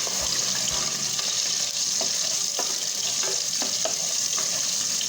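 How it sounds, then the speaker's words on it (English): Bacon frying in a pan as the first step of a clam chowder, a steady dense sizzle and crackle with occasional stirring and scraping taps, close and continuous with no talking. "I'm going to cook my bacon first."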